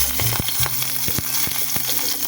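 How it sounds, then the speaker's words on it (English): Spring onions frying in a pan, a continuous close sizzle with regular stirring clicks and scrapes over light background music, no talking. "I'm going to fry my onions"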